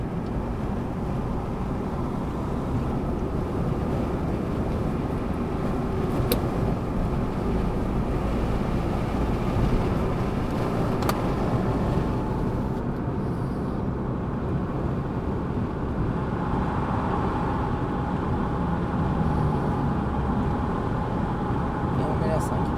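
A car accelerates on an expressway during a driving lesson, a steady, loud engine and road roar with wind noise throughout, while people talk inside the cabin.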